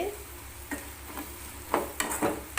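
Okra fries in hot oil with a continuous crackling sizzle, broken by several louder scrapes and clinks of stirring.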